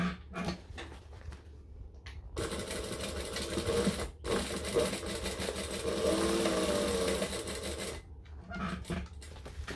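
Sewing machine stitching a fabric bag in a steady whirring run of several seconds, with brief stops and handling noises on either side; close and moderately loud, no talking.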